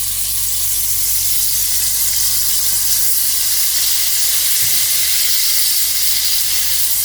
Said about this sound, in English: In the same oil, add your minced onions.